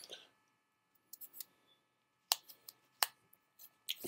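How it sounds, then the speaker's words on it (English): A few sharp plastic clicks and snaps, spaced irregularly, close by with quiet pauses between them, from a plastic insert clicking into a lock on a Trident gum package. "You hear that clicking noise? It's an insert for you to insert this corner of this here into here."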